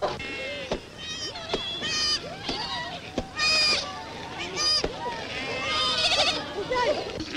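Several sheep bleat repeatedly at close range, wavering calls overlapping with a background of farmyard noise and occasional voices.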